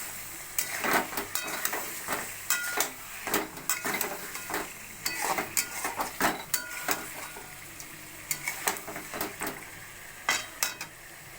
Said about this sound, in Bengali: এবার আমি এই মাছগুলোকে এর মধ্যে দিয়ে দেব, দিয়ে হালকা করে